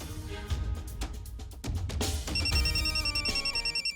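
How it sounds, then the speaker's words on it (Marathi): A telephone rings inside a home in a Marathi TV drama, its repeating electronic trill starting partway through and pulsing steadily over a busy background. "उचला फोन उचला"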